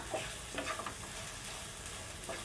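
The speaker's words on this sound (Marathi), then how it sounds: "मिक्स करून घेते भेंडी कांदा" Okra and onion fry in a pan for a Marathi-style bhindi fry, giving a continuous soft sizzle under light, irregular stirring scrapes and a few faint utensil clicks.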